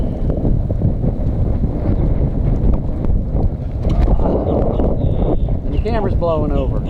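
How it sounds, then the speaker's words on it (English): Outdoor wind buffets a microphone with low rumbling gusts, loud and close, while a voice talks intermittently and faint chirps sound near the end. "And the wind's picking up."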